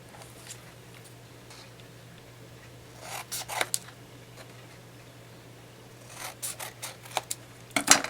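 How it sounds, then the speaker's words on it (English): Scissors trim corners off paper for a homemade monthly bill organizer, a few short snipping and crinkling bursts close by in an otherwise quiet room, with a faint steady hum beneath. "we're going to trim off 2 of the corners up to the top"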